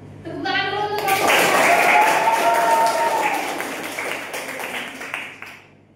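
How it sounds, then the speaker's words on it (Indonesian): Children in a classroom break into clapping for a student presenter, a dense burst of applause that swells and then tapers off, with a voice heard before it. "Tepuk tangan dulu untuk kamu."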